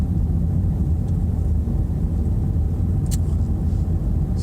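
A car cruises steadily in third gear at about 20 mph, its engine and road noise forming a constant low rumble from inside the cabin, with no talk.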